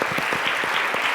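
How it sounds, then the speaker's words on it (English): A brief, dense burst of audience applause for young people fills just over a second, the clapping close and even throughout. "So let's give a big round of applause"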